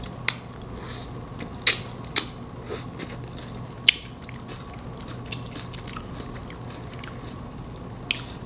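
Someone chews crunchy coleslaw eaten with brown stew chicken, close and fairly loud, with irregular crisp crunches and a few sharper bites over a low background hum.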